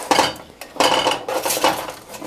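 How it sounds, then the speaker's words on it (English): Food being scraped and tipped into a non-stick pan with a spatula, a few clattering bursts of utensil against metal, close and fairly loud. "And I just put it all in here with a spatula."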